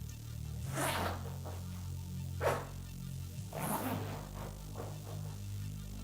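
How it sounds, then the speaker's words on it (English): An Acronym P31A-DS jacket being zipped up by one hand gives a few short rasping zipper swipes near the mic, spaced out over a steady low hum, with no talking. "you can't really zip it up with one hand"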